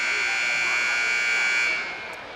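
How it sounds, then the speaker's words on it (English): A basketball game buzzer in a high school gym for a girls varsity game, one long, loud, steady electronic blare that holds for about two seconds and then cuts off, with crowd noise beneath. "got the field mic turned up just in time for the buzzer"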